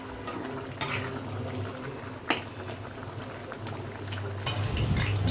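A vegetable curry with stalks simmers in a pot, giving a steady, low bubbling and hissing that runs throughout with a few sharper pops, and no talking.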